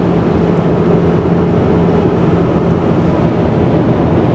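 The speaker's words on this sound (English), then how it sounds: "But we're driving up the road." A car drives up a road, heard from inside as a loud, constant low engine and road rumble that never lets up, with no voices.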